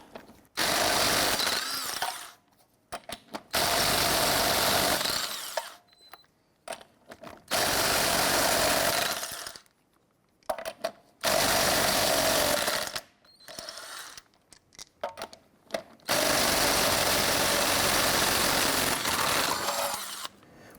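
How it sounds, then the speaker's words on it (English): Impact wrench with a 19mm socket loosening and removing wheel lug nuts on a 1999-2004 Jeep Grand Cherokee, five loud buzzing bursts of a few seconds each separated by short pauses, close by and with no talk. "Using your 19mm socket,"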